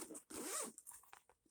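A zipper on a small bag pouch is drawn closed in one quick, close, crisp pull, followed by a few soft handling rustles.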